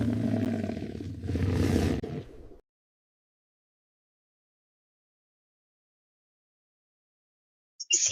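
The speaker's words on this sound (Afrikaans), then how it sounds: "Die leeu is ook op die R50 noot. Kom ons luister hoe hy brul." A lion roars loudly and close for about two and a half seconds, with a deep, rough growl and no voices, followed by a long silence.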